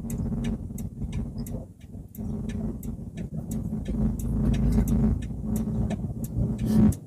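A manual car idles with a steady low engine hum, then pulls away as the clutch is eased out and the handbrake released, the engine note rising slightly; a regular ticking, likely the indicator, runs throughout.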